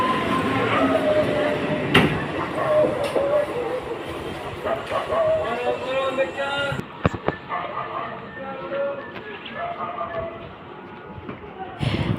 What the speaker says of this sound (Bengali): ট্রেন ছেড়ে আমাদের গুড বাই বলে চলে যাচ্ছে।